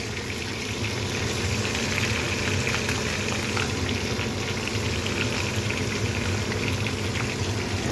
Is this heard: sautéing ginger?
yes